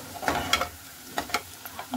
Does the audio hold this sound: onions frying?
yes